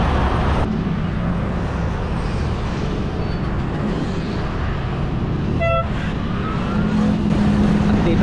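Dense, continuous roar of heavy traffic on a busy highway in Norzagaray, Bulacan, with passing vehicles, a brief horn toot, and a steady low rumble filling the whole stretch.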